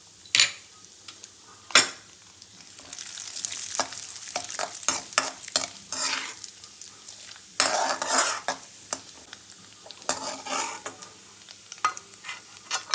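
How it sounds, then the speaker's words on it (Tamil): Cashew nuts frying in hot ghee in a pan for besan kheer, with a steady sizzle broken by repeated stirring clatters and utensil scrapes, close and moderately loud, no talking. "நெய் நல்லா காஞ்சிருச்சு. முந்திரி பருப்பை போடுறேன். பொரிச்சு எடுத்துக்கலாம்."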